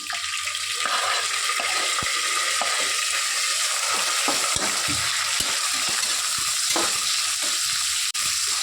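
Onions frying in a pot of hot oil for chicken biryani, cooked until golden, give a steady close sizzle with a faint stirring scrape and a few clinks, and no voices.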